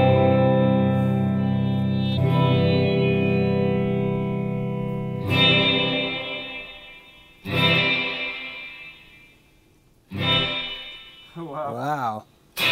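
A studio plate reverb struck on its own, a bright, short metallic wash that rings out after each hit, several separate bursts decaying into near silence, with a warbling tail near the end.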